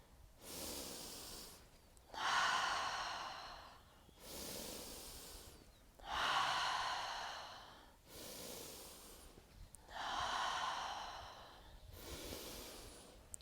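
Deep rhythmic breathing during a breath-hold push-up exercise, with long alternating inhales and exhales, about six strokes, close and fairly loud, each breath a breathy airy rush with no talk over it.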